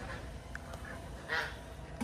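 Pekin ducks on a duck farm, faint quacking calls rising briefly near the middle over steady low background noise.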